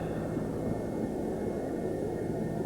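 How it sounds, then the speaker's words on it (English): Helicopter lifts off from a chaotic scene, its steady, dense rotor and turbine roar filling the air with no pauses and no speech. "That helicopter is in fact taking off."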